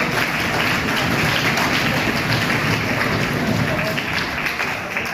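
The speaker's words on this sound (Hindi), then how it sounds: "जोरदार तालियां बजाएंगे।" Loud, dense applause fills the hall at a Bait Bazi poetry competition in Aurangabad, a steady roar of many hands clapping at once with no break.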